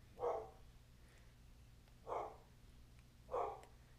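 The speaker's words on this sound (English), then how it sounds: "Sorry for the dog barking there." A dog barks three times in a quiet room, single short barks spaced over a couple of seconds, fairly distant and faint against low background hum.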